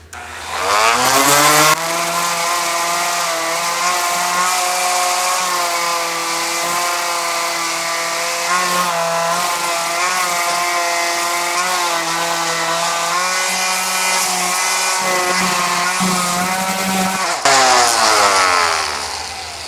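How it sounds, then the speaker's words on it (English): A power sander on a wooden cabinet door drones steadily and loudly for about twenty seconds, a continuous motor whine that starts and stops abruptly, with no talking. "Let's do some sanding."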